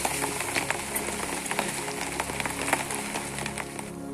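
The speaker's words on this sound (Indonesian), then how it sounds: "Bukannya bertambah reda, hujan malah bertambah deras." Heavy rain pours through the forest on the Cibodas route of the Gede Pangrango mountain trail, a dense, steady patter of drops on leaves with scattered louder splashes and no pause.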